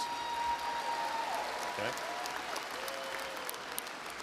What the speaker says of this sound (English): Go ahead and give me a claps.